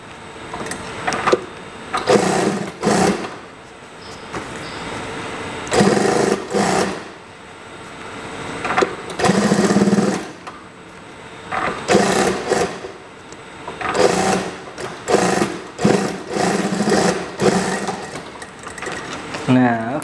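A sewing machine stitches the seam of a trouser waistband being let out, running in repeated short bursts with pauses between them, loud and close, while a person talks intermittently between runs.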